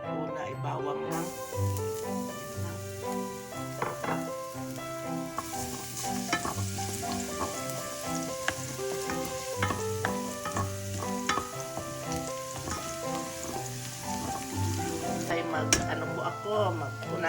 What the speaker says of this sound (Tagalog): Igisa muna natin itong una ay bawang lang.